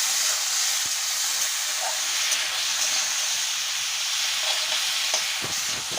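Two tomatoes sautéed without water in a pan for flat bean bati chorchori, a loud, steady hiss and sizzle with a few faint stirring taps.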